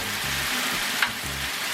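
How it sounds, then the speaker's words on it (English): Sliced beef marinated in Shaoxing wine and cornstarch hits a hot Blackstone griddle, giving a steady broadband sizzle with a brief sharper crackle partway through, close and continuous throughout. "what we're going to do is throw the meat on top of that"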